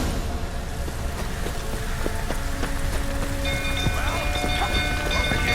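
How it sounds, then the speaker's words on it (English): Steady rain hisses in The Witcher 3 outside a burning stable, a constant broadband wash with faint tonal game sounds and scattered small effects layered on top. "Looks like rain."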